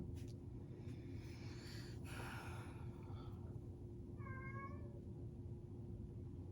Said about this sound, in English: I've started having these conversations with the cat because I don't know what he's saying.